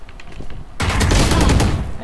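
Gunfire in the video game Valorant: a brief quiet stretch, then a sudden loud burst of rapid, overlapping shots that keeps crackling for over a second.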